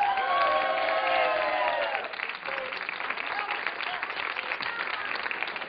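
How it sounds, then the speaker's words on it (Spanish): Loud crowd applause with scattered cheers at first, fading into lighter clapping and murmuring crowd noise. "un aplauso a Santo de Veracruz, por favor"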